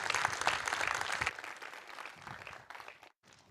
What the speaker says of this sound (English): Give Alexander another round of applause.